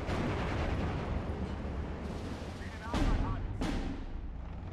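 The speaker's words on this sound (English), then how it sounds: "artillery is landing well there" Artillery shells landing in the Steel Division 2 war strategy game, Tiraspol campaign, heard as a continuous low rumble of distant impacts with two sharper, louder blasts standing out, all under a dense battlefield din.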